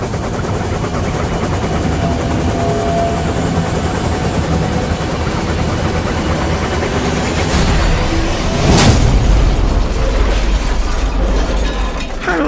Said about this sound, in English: As Harold's rotor blades began to spin, vital organs would be drawn into the motor